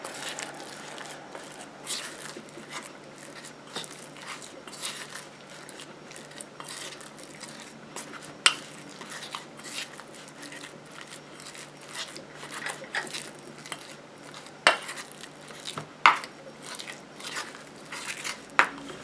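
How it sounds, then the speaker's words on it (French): Solid shampoo ingredients being stirred together in a bowl, giving a steady, close crackling and squishing texture broken by a few sharp clicks and taps. "Je mélange."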